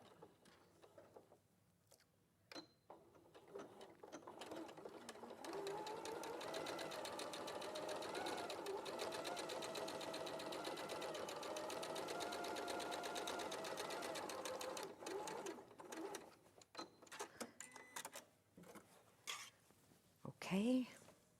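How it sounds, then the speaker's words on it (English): A sewing machine edge stitches or top stitches a pocket in one steady run of about ten seconds, with a few shorter bursts before and after and quiet talk in the background. "And then I'm just edge stitching or top stitching down there."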